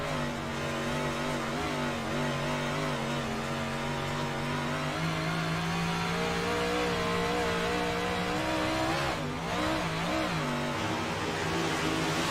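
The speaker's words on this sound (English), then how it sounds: "You hear how delicate he is being with that throttle, trying to find grip" A big-block dirt modified race car engine at Knoxville drones and warbles as the throttle is fed in and eased off, steady and fairly loud, with pitch shifting up and down.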